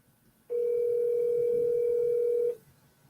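A single steady telephone tone while placing a call, one unbroken two-second beep starting abruptly and cutting off cleanly, alone against a quiet background.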